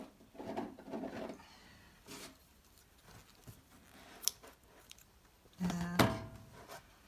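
Scissors snip crochet yarn at the end of a single crochet row on a granny square bucket hat, a few quiet, close cuts and handling noises separated by pauses.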